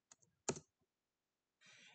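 Typing on a computer keyboard, a few faint quick key clicks followed by a short burst of keystrokes near the end, quiet and with no talking.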